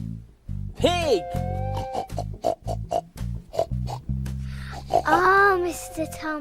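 A person playfully imitates a pig with repeated snorts, oinks and sniffing noises, loud and close in a children's farm-animal game, with excited children's voices calling out between the sounds.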